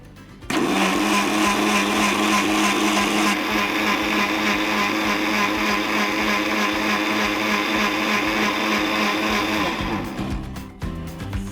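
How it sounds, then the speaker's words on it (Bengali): A loud electric blender whirs continuously for about ten seconds blending a drink with ice, its motor pitch shifting slightly as it churns, then cuts off abruptly. "আমি এটা একটু ব্লেন্ডারে দিয়ে দিচ্ছি এই মুহূর্তে"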